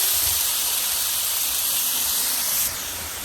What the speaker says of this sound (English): Let it fry for a little 2 to 3 minutes.